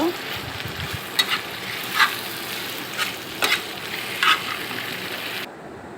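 Chilli chicken with cornflour slurry sizzles steadily in a hot pan while a spatula stirs it, scraping and clinking in a few distinct strokes before the sound cuts off at the end.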